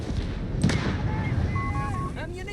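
Land mines exploding in the real-time strategy game Company of Heroes 3, a sharp blast followed by rumbling battle noise and distant combat, with a voice talking over it.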